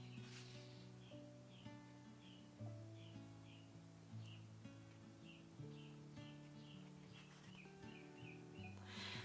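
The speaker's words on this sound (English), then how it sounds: "The birds are going crazy out there this morning." Birds sing outside in the morning, a faint, steady string of short repeated chirps set against lower sustained tones, with no talking.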